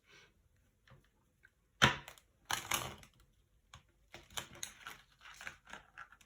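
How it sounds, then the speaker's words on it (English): Tarot cards are shuffled clumsily, giving close, dry papery flicks and riffling taps in uneven bursts with quiet gaps between them. "I'm shuffling really badly"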